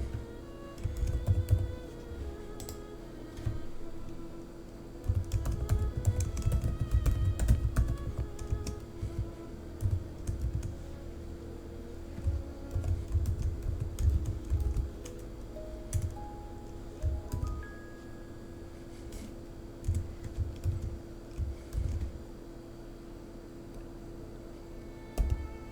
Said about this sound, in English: We are now inside Bob's spreadsheet and we will write the formula here again.